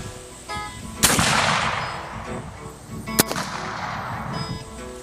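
Two sharp, loud rifle reports from a Cabela's .58 Hawken muzzleloader firing patched round balls, each a crack followed by a long booming decay, spaced about two seconds apart outdoors.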